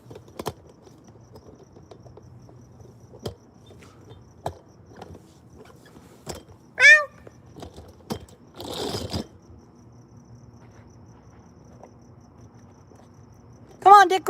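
A cat gives two short meows, one midway and one at the end, in an otherwise quiet room with scattered clicks and light shuffling.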